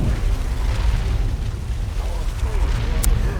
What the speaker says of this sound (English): That orbital bombardment hitting absolutely nothing.